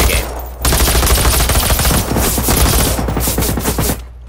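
Gunfire in the game Generation Zero, aimed at a heavy machine enemy: loud, dense bursts of rapid automatic shots that rattle on almost without pause for several seconds.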